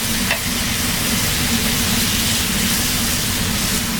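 Pad Thai sauce bubbles in a hot pan, a steady loud sizzle and crackle running without a break, with no voices.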